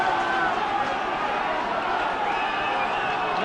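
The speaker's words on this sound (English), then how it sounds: "no doubting that delighted the crowd" Rugby test crowd at Swansea against the All Blacks, a steady loud roar of cheering spectators that holds for the whole stretch without letting up.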